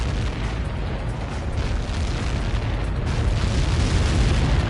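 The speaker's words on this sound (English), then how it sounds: "How many got caught in that explosion?" A massive blast from incoming projectiles roars in the Ace Combat 7 combat flight game, a loud, dense, continuous rumbling boom that fills the whole stretch and swells slightly toward the end, no voices.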